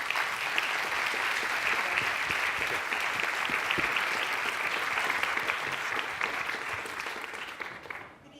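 An audience applauds steadily for about eight seconds to welcome Iris Chakta to the stage at a public talk on designing inclusive organizations, the clapping dense and even before tapering off at the end.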